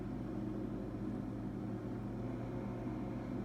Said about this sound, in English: Garbage truck, is that what you call it? It's taking the garbage.